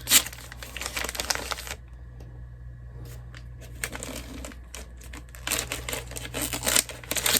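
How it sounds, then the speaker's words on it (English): Cheap dollar store wrapping paper crinkles and rips in close bursts, loud rustling and tearing separated by a quieter pause in the middle. "So it'll probably get ripped because it's just dollar store paper."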